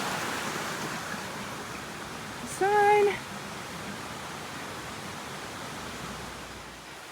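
A small stream at the first water crossing of an Appalachian Trail hike rushes steadily and close by as a soft, even wash, with a brief spoken word and a short whistle-like tone partway through.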